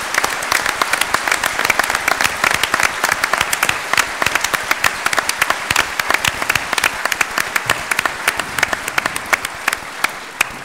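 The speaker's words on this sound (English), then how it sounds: "join with me once more in a round of applause to thank the candidates" Sustained applause from an audience at a PC Party of Alberta leadership forum on education, thanking the candidates; dense, even clapping continues steadily throughout at strong volume with no speech over it.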